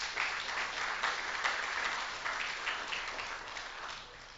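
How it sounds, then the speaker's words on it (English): Applause rises from an audience at an awards ceremony at Bordelais correctional facility. It is a sustained spread of clapping, fairly soft and a little distant, that slowly tapers off. "Can we give a round of applause to them"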